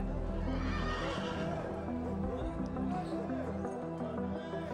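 Horses whinny and hooves clip-clop over a busy ancient Pompeii street scene, with a constant murmur of crowd and market voices underneath, all dense and continuous.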